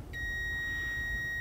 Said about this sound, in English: So here you see right away we have a beep. There's a short.